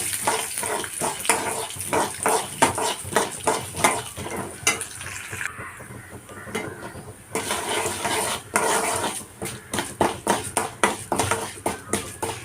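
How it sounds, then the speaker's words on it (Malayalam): Urad dal dropped into hot oil for a cabbage thoran, frying with a steady crackle while a spoon scrapes and clinks repeatedly against the metal pan. "ഇതിലേക്ക് ഞാനിതാ കുറച്ച് ഉഴുന്നാണ് ഇട്ട് ഇട്ട് കൊടുക്കുന്നത്"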